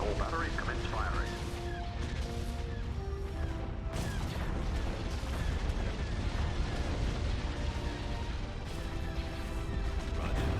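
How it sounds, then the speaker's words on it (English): Starship batteries fire in the Star Wars game Empire at War, Thrawn's Revenge mod, as a dense, continuous barrage of booming blasts and crashes over a low rumble, with a voice speaking over it. "All batteries commence firing."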